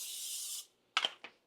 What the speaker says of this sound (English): let's get some no stick cooking spray and let's hit that